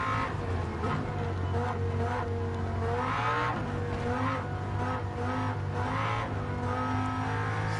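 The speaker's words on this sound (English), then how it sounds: "Stop spinning, car." Racing car spinning out during a Gran Turismo 7 video game race at Spa, with loud continuous engine drone, shifting revs and tire squeal, close and steady throughout, no voices.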